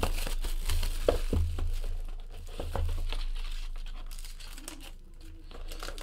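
Packaging for Panini Court Kings basketball trading card boxes is torn and crinkled open close up, with rustling and tearing bursts that fade to quieter handling and no talk.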